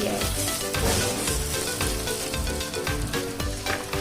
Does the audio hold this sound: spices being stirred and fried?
yes